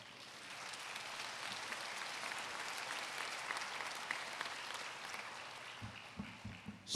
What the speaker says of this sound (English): so I applaud them.